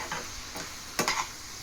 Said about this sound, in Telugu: వంకాయలు ఆయిల్లోనే ఇలా ఉప్పు వేసి మగ్గించుకుంటే